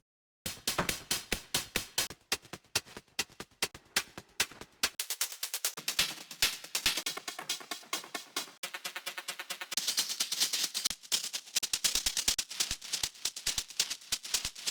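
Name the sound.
hi-hat loops from a sample pack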